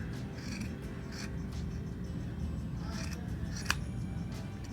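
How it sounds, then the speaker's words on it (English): Scissors cut the cuff off a thrift store sweater, quiet snips and fabric rasps over a steady low background hum, with a sharper click near the end. "we're just going to cut that cuff off"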